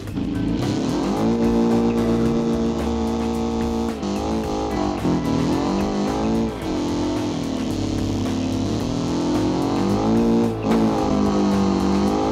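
A sports car in the BeamNG driving game, fitted with motorcycle-size wheels, revs its engine loudly and continuously, its pitch climbing and dropping through gear shifts, with faint tire squeal and no talking.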